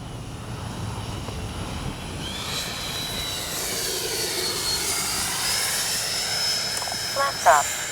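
FMS 70mm F-18F RC jet making a slow flyby, its turbine-like whine rising and sweeping in pitch as it passes at moderate distance over steady outdoor background noise.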